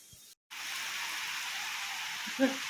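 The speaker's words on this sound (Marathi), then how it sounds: "सकाळी सकाळी येत आहे पाऊस" Morning rain falls steadily as an even, soft hiss, with a brief break near the start and a faint clink near the end.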